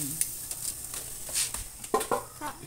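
Tilapia grilling with margarine, soft sizzling punctuated by scraping and tapping of utensils at a close grill, irregular bursts without talking.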